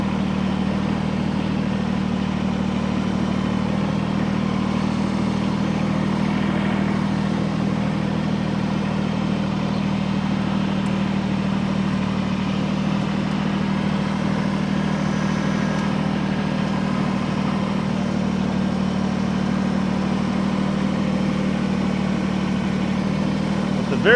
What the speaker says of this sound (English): Might as well let the tractor do some work.